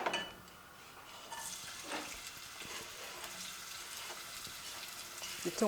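Onion frying in a generous amount of oil in a pan, giving a steady close sizzle with occasional stirring scrapes and a light clink near the end.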